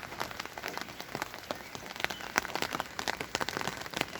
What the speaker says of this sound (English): Lovely rainy day in Ontario.